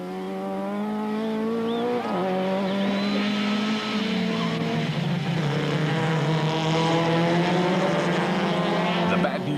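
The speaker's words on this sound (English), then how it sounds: "Through the sweep and up towards Beacon Bend, Taylor was climbing all over van der Linde, but the Sassel Beamer had the edge in straight line speed" Touring cars race on the East London circuit in 1998, engines holding a steady high drone as they pass, with a race commentator talking over the continuous roar.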